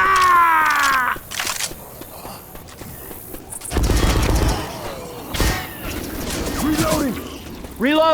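Left 4 Dead 2 gunfire in a zombie shooter: several loud cracking bursts and short volleys mixed with shouting voices and busy game sounds.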